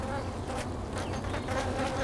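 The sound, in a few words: Japanese honeybees swarming to attack a hornet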